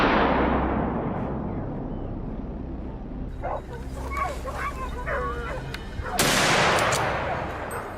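Hunting hounds bark during a wild boar hunt, with repeated nearby barks and yips over a loud, noisy outdoor background and a burst of harsh noise near the end.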